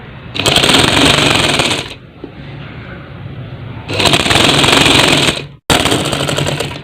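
A sewing machine stitches mosquito net fabric in three loud, rapid mechanical bursts, two long runs and a short one, separated by quiet pauses with faint room noise.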